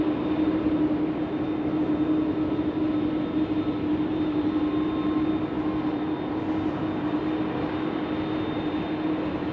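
Air ambulance aircraft passing through thick fog at Sydney Airport at night, a steady, continuous engine drone with a constant hum that holds at moderate loudness throughout, no voices.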